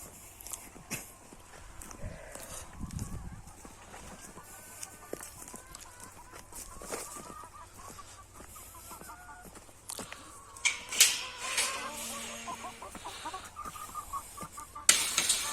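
Farm chickens cluck softly and intermittently at a distance, mixed with footsteps and faint rustling, growing busier and a bit louder toward the end.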